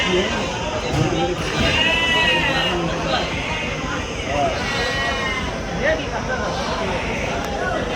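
Goats bleat several times among a busy crowd at the Angallu livestock market, people chattering and talking nearby over a constant outdoor din.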